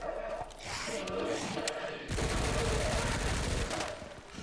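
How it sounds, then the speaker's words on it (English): Rapid bursts of gunfire in the video game Resident Evil 9, a dense rattle of shots that grows heavier midway, with some faint voice-like sounds underneath. "Holy shit, gunfire, where's it coming from?"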